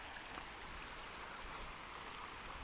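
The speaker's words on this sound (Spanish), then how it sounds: "Yo creo que ya empieza a caer la lluvia." Rain begins falling beside a rocky stream, a soft, even hiss of drops that is faint and steady with no voices.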